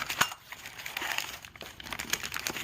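Packing paper is crumpled and pushed aside while a large fire alarm device is unboxed. The close, crisp crinkling and rustling comes in irregular bursts, with no voices.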